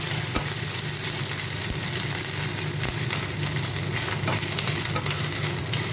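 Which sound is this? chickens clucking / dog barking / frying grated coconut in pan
frying grated coconut in pan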